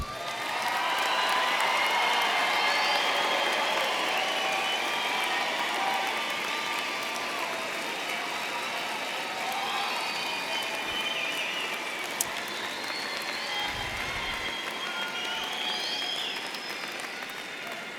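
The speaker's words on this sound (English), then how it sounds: "I think all the graduates deserve one more round of applause" Sustained applause from a large crowd at a spring university commencement ceremony for graduating students, a steady dense wash of clapping that holds at an even level for the whole stretch, with faint scattered voices underneath.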